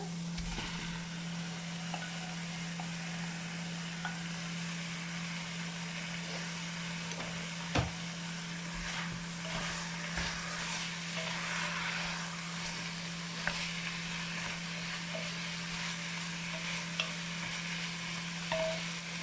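Pork pieces sizzle and fry steadily in a hot pan while being stirred, a continuous crackling hiss with occasional louder pops and scrapes, close and alone with no talking, for a sauté of pork in sweet cider.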